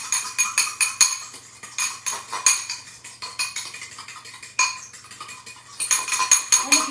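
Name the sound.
stirring a mustard and brown sugar topping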